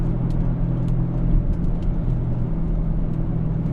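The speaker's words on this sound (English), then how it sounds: "It does like to pop and give some good feedback when you downshift." A 2021 Audi C8 RS6 Avant with a RedStar exhaust, downpipes and non-resonator center resonators, running close by with a steady, deep engine rumble throughout and no voices.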